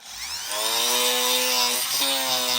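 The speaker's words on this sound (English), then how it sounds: "So we'll take our drill." A power drill whines loudly and steadily as it bores into the stuck flint of a Zippo lighter, its pitch dipping briefly under load near the end; close and continuous.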